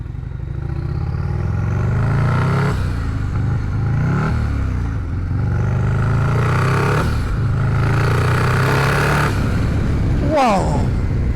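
A turbocharged Harley-Davidson CVO Road Glide ST engine revs hard again and again, loud and close, with the rising and falling surges running continuously through the whole stretch and no talk over it.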